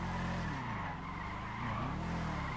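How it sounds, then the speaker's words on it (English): Car tires screeching continuously while spinning 360s in GTA, a sustained tonal squeal with wavering pitch over a steady engine drone, loud and close throughout. "you just reverse, you spin it around, accelerate, spin it back around again"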